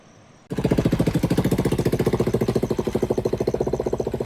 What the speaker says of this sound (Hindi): यहाँ ऐसी सड़कों में भी बाइक दौड़ा दे रहे हैं।